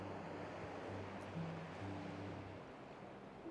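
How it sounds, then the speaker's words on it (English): Sea surf washing into an isolated cove with old houses, piers and moored boats, a steady broad wash of waves with faint low hum underneath, no talking. "The sea."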